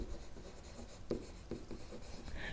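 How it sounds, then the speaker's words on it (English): Chalk or marker strokes on a board in a radian-angle math lesson, quiet and scratchy: a few short, faint marks in a hushed room. "Let me write that in."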